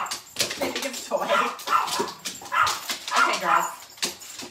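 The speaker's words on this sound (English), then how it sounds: "that's my chihuahua barking in the background" A chihuahua barks and yips repeatedly in the background indoors while several other excited dogs whimper and carry on, the noise coming in uneven bursts.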